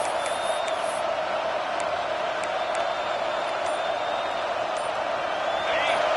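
A home crowd at an Auburn–Alabama college football game roars steadily on third down, a dense, sustained wash of cheering with whistles and shouts rising near the end.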